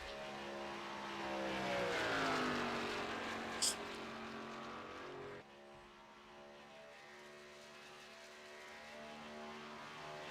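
The number 84 race car on a lap at Michigan, a steady engine drone rising in pitch as it nears, with a brief sharp burst midway, then a lower continuing note.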